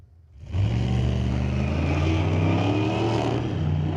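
A 1948 Austin with a 383 engine and a 2016 Dodge Charger Scat Pack launch side by side at a street-legal drag night at Mission Raceway Park, engines roaring loud and sustained after a brief quieter lead-in.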